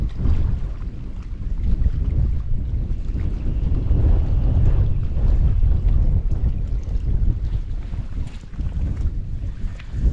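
Strong wind buffets the microphone in a steady low rumble, with faint water sounds underneath and no voices, on the Taf Estuary in Carmarthenshire, Wales.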